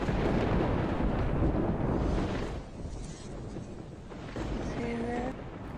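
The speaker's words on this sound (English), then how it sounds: "the rain came down and the thunder clapped" Deep rumbling thunder in the video game Project Zomboid rolls loudly for a couple of seconds, eases off, then swells again with a faint tonal hum near the end.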